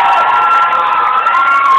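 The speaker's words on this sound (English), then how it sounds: "So give a round of applause for yourself." Concert crowd cheering and clapping at a Freedom Fund benefit show, a dense, steady roar of voices and applause held at full volume throughout.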